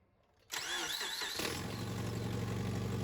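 A Subaru engine that had been down on power cranks and catches, then settles into a steady, loud idle with a low rumble and a faint whine, close by and alone.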